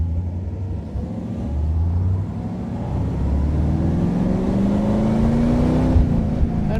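A 1952 Allard J2X with a 340 hp Hemi V8 drives along the road. Its close, steady engine drone rises gradually in pitch as it pulls forward, with no talking.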